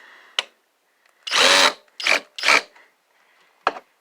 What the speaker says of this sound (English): the drill bit I chose is not going to work for this